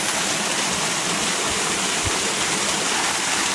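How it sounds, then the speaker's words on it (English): Loud waterfall on the Big Island of Hawaii, heard up close: a dense, constant roaring hiss of falling water with no break, filling the whole short stretch. "The waterfall's so loud here"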